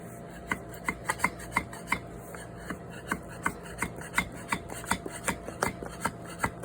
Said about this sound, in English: I am getting the stickers up off the ground. The scraper.